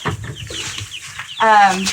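Chickens in a backyard coop give a few close, short clucks, followed by one louder, drawn-out squawk near the end.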